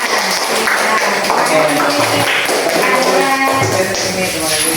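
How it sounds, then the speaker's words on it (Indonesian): A class gives a round of applause to a student group during a teaching practice exam, a close, uneven patter of clapping hands with some voices murmuring underneath. "Ya, tepuk tangan dulu untuk mereka."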